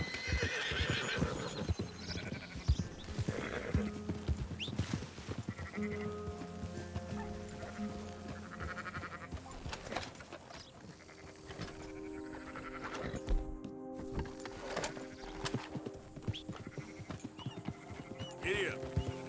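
Horse in Red Dead Redemption 2 neighing and clip-clopping along amid a game soundscape of animal calls and background music, with a voice speaking briefly.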